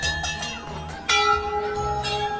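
Large temple bells at Kainchi Dham ring with repeated metallic strikes, their sustained tones overlapping and hanging in the air, one louder clang landing midway, close by and without speech.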